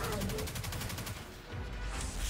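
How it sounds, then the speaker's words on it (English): Rapid submachine gun fire in the shooter game Destiny 2, a dense stream of close, loud shots with a chattering rhythm that thins briefly midway before picking up again, mixed with game noise and possible faint voice. "you're taking some submachine gun to the fucking face right now"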